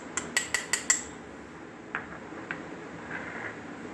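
A spoon clinks against a bowl as custard powder is stirred into cold milk. A quick run of five sharp taps comes first, then a few softer, scattered knocks, with no voices.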